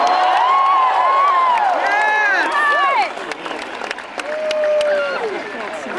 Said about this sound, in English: Tom Barrett, please give him a big round of applause